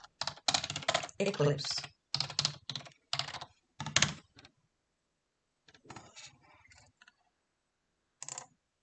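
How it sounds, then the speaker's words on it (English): Keys clacking on a computer keyboard while a search term is typed during a Java and Eclipse setup on Windows 10, in quick close bursts with spoken words at the start and sparse taps later. "Just type downloading"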